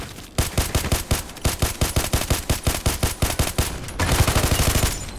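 Rapid bursts of OTs-33 Pernach automatic pistol fire in Contract Wars, a loud, evenly spaced stream of about twenty shots, then a brief dense flurry, with no talk.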